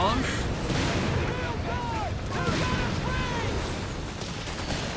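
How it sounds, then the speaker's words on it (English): Artillery barrage in the real-time strategy game Company of Heroes 3, a dense rumble of booms and blasts rolling continuously at moderate distance, with a commentator talking over it. "Now they need weapon barrage."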